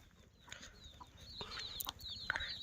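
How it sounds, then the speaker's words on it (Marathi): Free-range village chickens on a goat and poultry farm cluck in short, scattered calls over a low rural background, with a few sharper squawks near the end and no talking. "ह्या ठिकाणी तुम्हाला मी दाखवतो कोंबडी"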